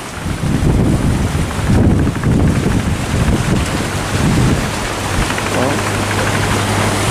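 Strong wind batters a pair-trawl fishing boat heading back to port at Lagi, producing a loud, continuous roar of gusts buffeting the microphone, with a low engine-like drone running underneath.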